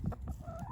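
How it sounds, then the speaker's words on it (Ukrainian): Chickens cluck softly nearby in short, low bursts, one rising call standing out over a quiet, busy farmyard background. "Курки."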